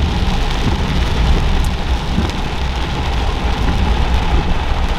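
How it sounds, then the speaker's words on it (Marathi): Heavy rain drumming on a car during a monsoon drive, a loud continuous hiss and patter with low road rumble beneath, no voices. "आणि भरपूर असा पाऊस चालू आहे."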